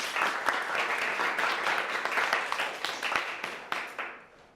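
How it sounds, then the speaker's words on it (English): A room full of people applauds in dense, steady clapping that holds at full strength for several seconds, then tapers off at the end. "Round of applause."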